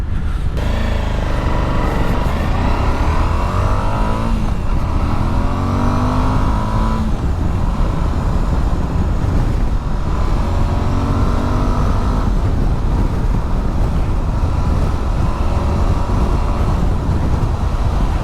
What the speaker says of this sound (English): So you can see this bike doesn't hang around.